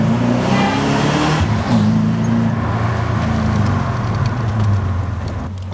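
BMW E34 540i with a V8 engine and its catalytic converters removed, driving on a road under repair; a loud, steady low exhaust drone continues throughout with slight shifts in pitch, close and with no talking.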